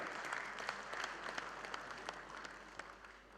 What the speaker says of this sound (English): let's give him a big round of applause, Mr. Rajiv Mehra.